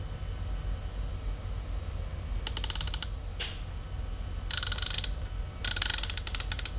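A scope adjustment turret on a Bravo Elite air rifle being turned to loosen it, producing three short bursts of rapid, crisp ratcheting clicks against a quiet background hum.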